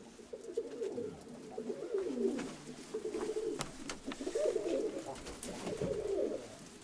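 Several pigeons coo in repeated low, throaty bursts across the whole stretch, close by and fairly loud, with some overlapping calls and faint background noise.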